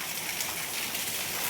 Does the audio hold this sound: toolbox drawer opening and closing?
no